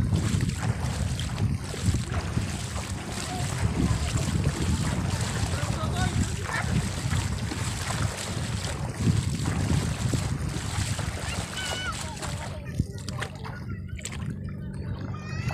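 A wooden bangka approaches and arrives at a harbor in Prieto Diaz, Sorsogon, its low engine drone steady and fairly loud under constant wind noise on the microphone, with lapping water and voices in the background.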